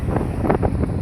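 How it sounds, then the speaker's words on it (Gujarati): Strong wind during a storm blowing hard across an outdoor microphone, with loud rumbling buffeting gusts coming in rapid pulses over about a second, no talk. "આ પવન અને વાવાઝોડાથી ખૂબ પરેશાની માણસોને થાય છે."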